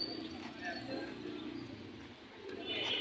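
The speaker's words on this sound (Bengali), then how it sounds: "এইখানে এক ভাই কিছু কবুতর আছে।" Pigeons coo softly at a Rampura Meradia pigeon market, faint and distant amid a low murmur of market background noise, with occasional chirps.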